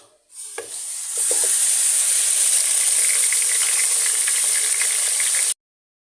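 Pieces of tail meat dropped into hot oil with frying whole spices in a pot for qorma, bursting into a loud, steady, hissing sizzle that holds strong for several seconds before cutting off.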